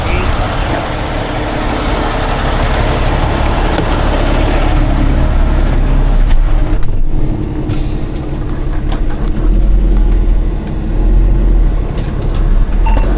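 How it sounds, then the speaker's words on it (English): A truck engine rumbles close by as the vehicle pulls away, with a short hiss like an air brake partway through. "Let me get my truck out of the way."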